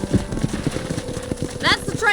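A horse's hooves clip-clop at a steady trot in the video game Red Dead Redemption, close and rhythmic, with a brief snort or whinny near the end.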